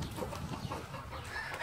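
A hen on a ranch clucks in short, soft, repeated bursts over a brief stretch, fairly close against a low background rumble.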